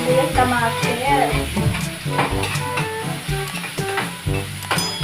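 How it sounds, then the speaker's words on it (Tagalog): Garlic, onion and tomato sautéing in hot oil in a pan, with a bright sizzle and stirring scrapes, joined by background music. "Yan, nagisa na tag. Bawang sibuyas kamatis."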